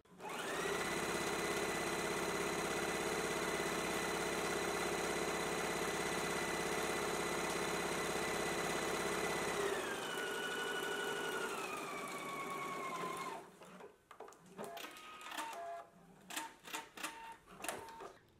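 A sewing machine hums steadily while stitching a seam in place, then slows and winds down, followed by scattered clicks and fabric handling.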